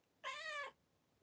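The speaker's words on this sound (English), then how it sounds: "Kathy, you did hear a kitty." A cat gives a single short, clear meow lasting about half a second in otherwise quiet surroundings, fairly near, with no talk around it.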